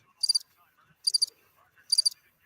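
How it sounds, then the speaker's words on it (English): A cricket chirps in three short, shrill trills, evenly spaced about a second apart, clear against near silence. "You could hear a single cricket in that arena."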